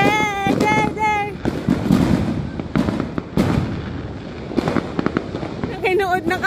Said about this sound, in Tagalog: Fireworks! There! There! There!